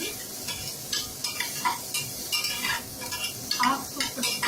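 Onions sautéing lightly in oil in a pan for Chennai-style brinji with seeraga samba rice, a steady soft sizzle broken by repeated scraping stirs of a utensil against the pan, close up with no talk.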